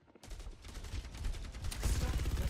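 Steady gunfire in the video game Overwatch starts abruptly and keeps going, growing denser and louder toward the end, with a voice talking faintly underneath.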